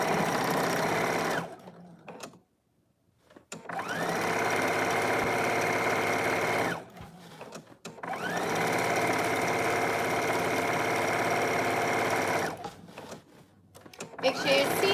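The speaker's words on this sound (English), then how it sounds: "we're gonna sew all the way up this 1/2 inch" A sewing machine stitches a half-inch seam on a shift dress in three long steady runs, each several seconds of loud continuous whirring, separated by short pauses.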